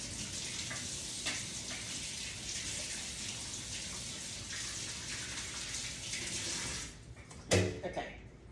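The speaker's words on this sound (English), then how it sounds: "Let me wash my hands." Water runs steadily from a kitchen tap as hands are washed beneath it, a continuous close rushing that cuts off near the end, followed by a few brief clatters.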